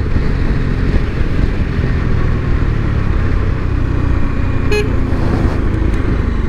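A Bajaj Dominar 250 motorcycle gives one brief horn toot near a village square, heard over the steady engine and wind rush of riding.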